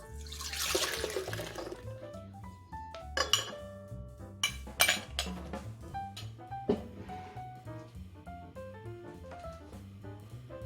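A yeast mixture for bagel dough is stirred in a bowl, with clinking and tapping of a utensil against the container and a splash of liquid early on, close and intermittent with no talking.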